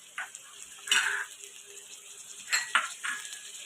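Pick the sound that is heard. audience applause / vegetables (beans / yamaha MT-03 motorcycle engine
vegetables (beans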